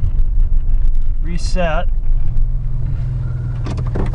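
A Ford Ranger pickup idling with an ABS defeat switch fitted: a loud, steady low engine drone that carries on under a brief chirp, a short clicking rattle and someone speaking nearby.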